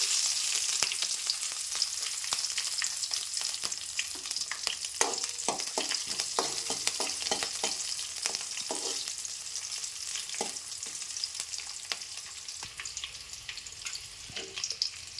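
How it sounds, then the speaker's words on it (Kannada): Mustard seeds, curry leaves and green chillies fry in hot oil, a steady loud sizzle with rapid popping crackles and occasional clinks of stirring, continuous throughout with no voices. "ಸಾಸಿವೆ ಎಲ್ಲ ಸಿಡಾತವ್ರಿ."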